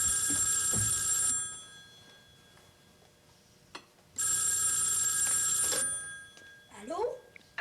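A telephone bell rings loudly in two long bursts, with a gap between them, in a room where someone speaks French nearby; clinking of a tray or dishes is heard faintly.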